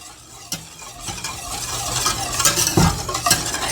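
A spoon scrapes and knocks as butterscotch pudding mixture is stirred in a pot over medium heat, with a few sharp clinks over a soft, rising bubbling hiss.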